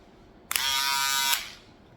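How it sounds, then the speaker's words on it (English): Electric box shaver buzzing during a skin fade haircut, switched on sharply for under a second of steady, bright whirring, then cutting off; close and alone. "I'm going to do the box shaver now."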